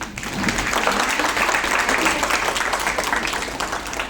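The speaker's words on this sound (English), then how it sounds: "So, clap for him, please." Audience applause at an exhibition of sketches on Indian culture, a dense, steady crowd clapping that fills about four seconds without a break.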